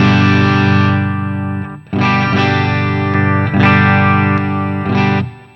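Electric guitar on its bridge pickup through a REVV Tilt overdrive pedal plays loud, sustained distorted chords, several strummed hits ringing out with a brief dip between, with no voices.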